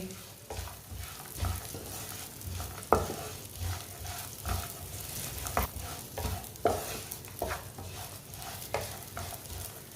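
Dried dates being roasted and stirred in a hot pan for a winter date and peanut recipe: continuous soft sizzling broken by frequent scraping spoon strokes, close and steady.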